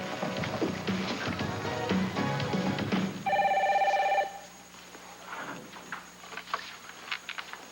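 A telephone bell rings once, a bright sustained trill lasting about a second, after a stretch of muffled background noise in a soap-opera office scene, followed by quieter room sounds and faint taps.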